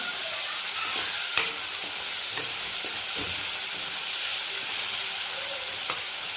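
Tomato for brinjal bharit frying in a pan gives a loud, steady hissing sizzle that fills the clip, with a few faint clicks of a utensil now and then.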